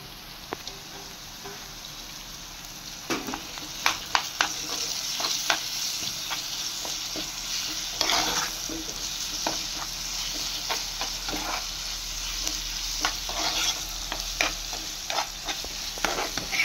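Chopped tomato fries in a pan of masala while a spoon stirs it, giving a steady soft sizzle broken by irregular scraping clicks and taps throughout, fairly quiet and close.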